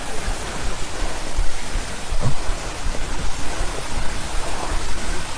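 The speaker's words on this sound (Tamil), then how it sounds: "இந்த அருவி சத்தம் தாங்க கீழே வரைக்கும் கேட்குது" A hillside waterfall pours down with a steady, loud rushing roar that stays even throughout, with no voices over it.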